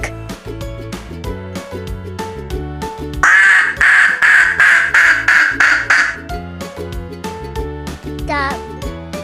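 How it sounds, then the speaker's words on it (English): A farm duck quacks in a rapid run of loud, raspy calls lasting about three seconds, standing out over light background music. "Duck."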